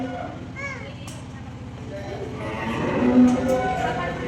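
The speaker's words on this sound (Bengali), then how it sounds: "ভয় পাচ্ছে গরুর শব্দে" Cows at a cattle farm low and moo, the calls mixed with crowd noise and children's voices, with people talking over them nearby.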